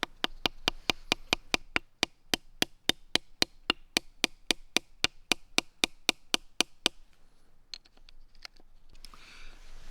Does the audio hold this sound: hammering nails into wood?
yes